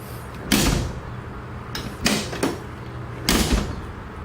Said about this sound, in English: watch when I close the door